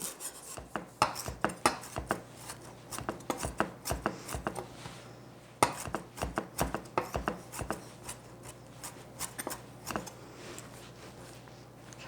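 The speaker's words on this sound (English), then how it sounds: "So we have some parsley here that we're going to chop and put on top." Fresh parsley being chopped with a knife on a cutting board while making stromboli, a quick uneven run of close crisp thuds and scrapes repeating for several seconds with no talk.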